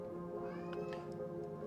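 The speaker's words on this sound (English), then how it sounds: "Hear the cat in the background." A cat meows faintly in the background of a room, a couple of short rising cries over a steady low hum.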